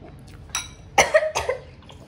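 A person coughs while eating, several sharp close coughs in quick succession, the strongest in the middle, over a quiet room background.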